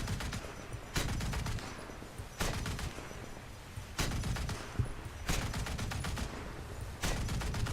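Naval gunfire in War Thunder breaks out in repeated sharp volleys of booming shots about every second or two, fairly faint overall, over a continuous rumbling background.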